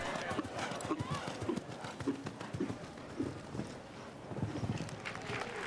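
A show jumping horse canters around a grand prix course, its hoofbeats thudding in a rhythmic series beneath steady commentary and crowd ambience, fairly soft and distant.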